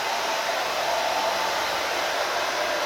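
Hair dryer blowing steadily in a hair salon, a close, continuous airy roar heard alone.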